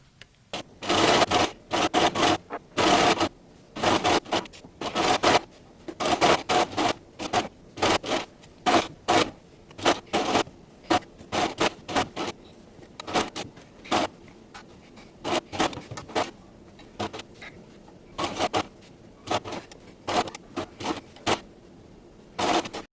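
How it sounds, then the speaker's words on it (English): Sewing machine running a straight stitch to attach fabric ruffles to a whipped-cream pillow piece, in repeated short bursts of mechanical whirring separated by brief pauses, close and moderately loud. "So now I'm just going to sew with a straight stitch and sew these ruffles onto this whipped cream dollop"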